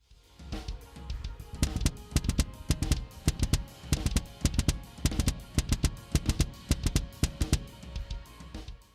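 A drum groove played with a double bass drum pedal: quick, even kick strokes in a steady repeating rhythm with sharp cymbal or hi-hat hits, up close and fairly quiet, no talking.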